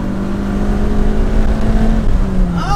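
A Honda Element engine held at full throttle in second gear in a street-racing setting, a loud, close, steady drone with a faint rising whine toward the end.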